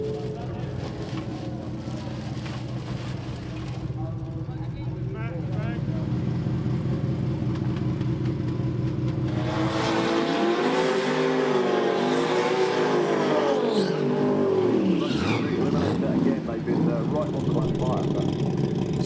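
Drag race cars at a Street Eliminator main event: a steady engine drone shifts into loud, rising and falling revving roars about halfway through as the cars launch, close and powerful.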